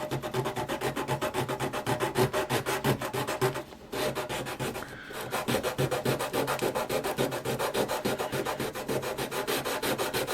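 Close, rhythmic sandpaper rubbing on a small model ship part, a rapid back-and-forth scratching that continues steadily, broken only by a brief pause partway through.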